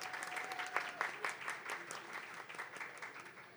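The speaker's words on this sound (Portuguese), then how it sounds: "Uma salva de palmas para a Raíssa também" An audience applauds a panel speaker at a talk on equity and diversity policies, a dense, steady patter of many hands clapping for a few seconds, moderately distant and without speech.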